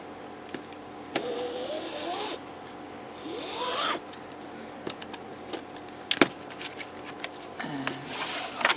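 Bookbinding cloth being cut with a stainless steel tool, heard as long rasping slices and scraping strokes, with sharp clicks and taps between cuts, close and fairly quiet.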